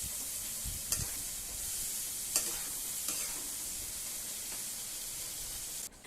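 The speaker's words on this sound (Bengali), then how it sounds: "এবার লো টু মিডিয়াম ফ্লেমে এই মশলার সাথে আমি আলুটাকে রান্না করে নেব।" Potatoes cook on low to medium flame in spice paste for a hilsa fish curry, giving a steady soft sizzle with a few stirring scrapes, close and moderately quiet with no talk.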